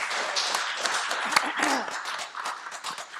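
An indoor audience at a county regional meeting on homelessness claps in a dense, steady round of applause that continues throughout.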